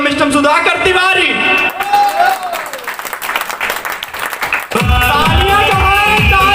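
Audience at a company anniversary celebration in Delhi applauds loudly as a guest is welcomed onto the stage, with dense sustained clapping and scattered shouts and cheers. The applause swells again near the end.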